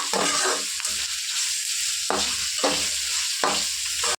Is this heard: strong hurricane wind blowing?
no